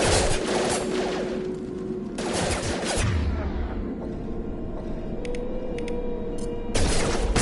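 Gunfire from the sci-fi shooter game Mass Effect 2, with dense bursts of rapid shots and booms during a fight against hostile mechs at a colony, bursts starting and stopping with brief gaps of rumbling combat noise between them.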